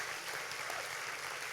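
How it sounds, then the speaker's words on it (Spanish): A church congregation applauds a newly married couple, a steady, even wash of clapping from many hands filling the room, moderately faint and unbroken, with no voices standing out. "Denles un aplauso de felicitación por"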